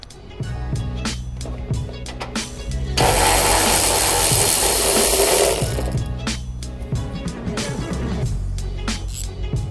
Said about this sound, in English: Once those 2 things are out of the way, you can remove the bolt and nuts.